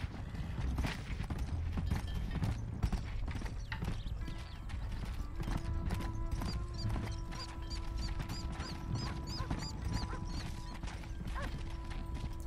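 Horse hooves in the western video game Red Dead Redemption clip-clop in a brisk, steady rhythm on a farm, under soft ambient music and occasional mechanical clicks.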